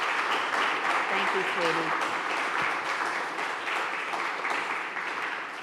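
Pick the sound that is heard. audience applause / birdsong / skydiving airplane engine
audience applause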